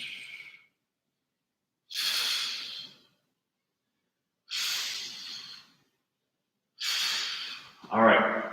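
Three long, breathy exhales come at an even pace during a lateral reach exercise, close and clear with silence between them, and a voice speaks briefly at the end.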